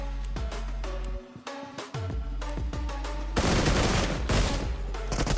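Rapid gunfire in BGMI on a low-end Android phone: loud, close bursts of repeated shots with ringing metallic tones, then a denser, heavier volley toward the end, with no voices.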